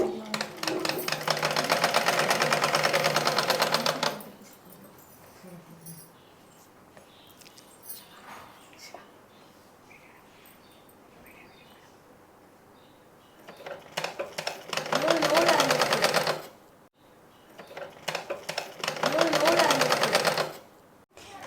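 A sewing machine stitches the seam of churidar pants in three loud, close runs of steady whirring, with quiet pauses between them where a voice talks.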